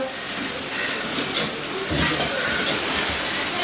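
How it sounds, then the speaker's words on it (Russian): Potatoes boiling in a pot on a gas stove, a continuous hissing, bubbling wash with faint low burbles throughout and no voices. "Картошка подходит, закипает, тоже потише, чтобы сильно не бурлила."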